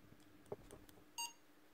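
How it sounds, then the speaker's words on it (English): Chipolo One tracker with a faulty piezo speaker gives a brief, thin, high-pitched beep after some faint handling clicks, quiet and close. "You might get a beep out of it,"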